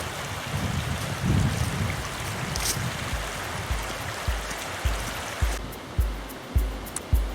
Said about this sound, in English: I love the sound of running water, and you get that walking down towards the bottom of Ram's Combe